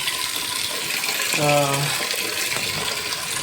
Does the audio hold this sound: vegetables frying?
no